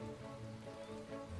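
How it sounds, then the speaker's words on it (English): Poison rain in the video game Starbound falls as a constant, even hiss of drops, with a low hum of background game music and no voices. "Oh my god, it's poison rain."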